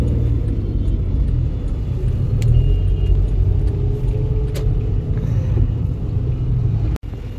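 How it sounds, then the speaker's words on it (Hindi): Steady city road traffic rumbles by during a car road trip, a continuous low engine and tyre drone with a few faint clinks and one sharp knock near the end. "अब आप देख लीजिए भाई सिटी ट्रैफिक गाड़ियाँ"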